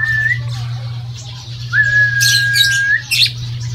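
A pet bird gives long, thin whistled squawks with harsh chattering bursts in between, close and clear over a steady low hum, with no talking.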